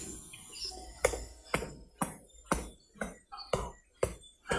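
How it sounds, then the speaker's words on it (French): A hammer knocks on wood in a children's story, striking about eight evenly spaced, sharp, close knocks in a steady rhythm with little else between them. "C'est le bruit du marteau du gentilhomme."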